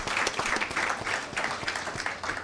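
Audience clapping at a returnees' discussion forum, a steady patter of hands filling the room at moderate volume, with faint voices underneath.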